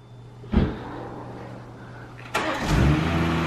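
A BMW engine idles with a steady low hum, then revs sharply twice, rising in pitch and loudness before settling into a throaty drone.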